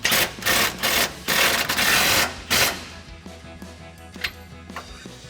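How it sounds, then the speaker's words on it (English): A 19 mm socket tightening a nut on a bull bar mount against the frame of a 2007-2018 Chevrolet Silverado 1500, heard as several loud close ratcheting bursts before the sound trails off into quieter clicks. "take a 19 millimeter socket to tighten it down"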